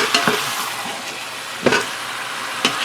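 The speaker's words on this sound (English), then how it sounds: "You want to brown the meat on high heat" Pork ribs and chicken browning in a pan over high heat while being stirred: a steady sizzling hiss broken by three sharp scraping stir strokes, close and fairly loud, with no talking.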